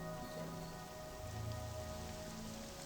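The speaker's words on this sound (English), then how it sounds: "It's raining and Muds is mad about it." Steady in-game rain from Morrowind hisses evenly at a low level, a soft continuous wash with faint tonal hums beneath and no talking over it.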